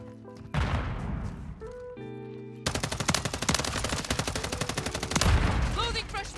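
Rapid automatic gunfire from Call of Duty MW3 crackles in long, dense bursts with a short pause between volleys, loud and close, followed by heavier impacts and mechanical game effects at the end.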